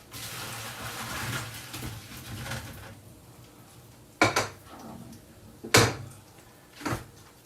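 Boiled potatoes drained from a pot in a home kitchen: a few seconds of rushing, splashing pour, then several loud metallic clanks and knocks of the pot and lid, close by.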